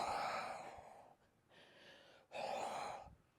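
Heavy breathing inside a motorcycle helmet, with two loud, airy bursts of close breath separated by a quieter exhale, muffled and enclosed by the visor.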